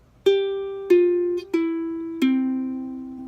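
Four plucked ukulele notes ring out one after another, each struck cleanly and left to decay, playing the second half of a riff alone, close and clear with no talk.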